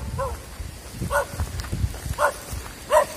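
A dog barks several times at a distance along an outdoor trail near a waterfall, the short barks spaced roughly a second apart over faint rustling and footsteps, with no talk.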